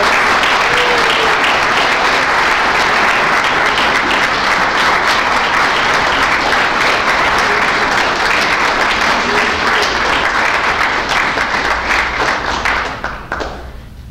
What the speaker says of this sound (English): Let's give a big round of applause to this hardworking folks.